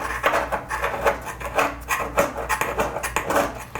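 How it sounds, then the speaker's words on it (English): Old sealant is scraped off shower tile and metal in a run of repeated rasping strokes, close and fairly loud, each scrape a short gritty burst in an uneven rhythm. "I'm scraping the tile first, and then I'm scraping the metal carefully"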